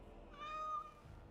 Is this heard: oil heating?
no